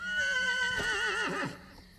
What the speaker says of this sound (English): That is a horse made of mushrooms.